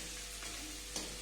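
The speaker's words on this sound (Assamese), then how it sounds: "গতিকে ল' ফ্লেমত ভাজি আছে" Bay leaves fry gently in oil over a low flame for veg pulao, a faint steady sizzle with a brief small crackle near the end, quiet and close.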